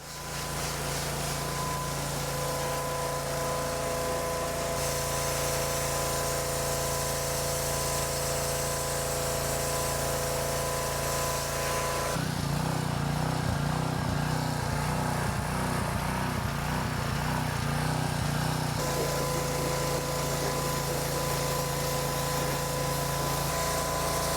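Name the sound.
spraying water to wash a dirt bike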